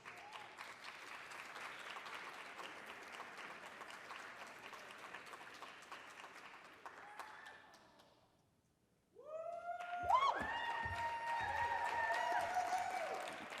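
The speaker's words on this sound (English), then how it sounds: "Another round of applause." An audience at an awards show applauds steadily, the clapping fading out briefly before a fresh round of applause rises again, joined by bright sustained tones over the top.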